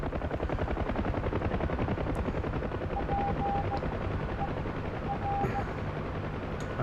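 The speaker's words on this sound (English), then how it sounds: "What's interesting about flying a helo, I've noticed, is that once you have forward motion, the term rotary wing is actually pretty accurate." UH-1 helicopter in the DCS flight simulator, a continuous dense rotor chop and turbine whine, loud and close, with a few faint tonal beeps in the background.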